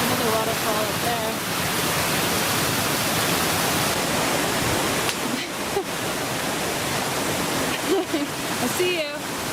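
Waterfall pouring steadily on a travel outing, a dense, constant rushing roar that fills the whole clip, with faint voices and brief sounds occasionally breaking through.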